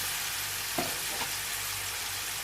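Ginger and garlic frying gently in oil in a pan, a steady soft sizzle with a couple of brief stirring scrapes, close and without speech.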